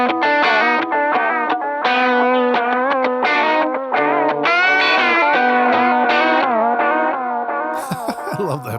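Electric guitar played through a Demo-Dash T120 lo-fi videotape effect pedal, giving a warbling, wobbly, degraded tone over a run of sustained, distorted chords and notes at steady loud level, with a noisy burst at the end.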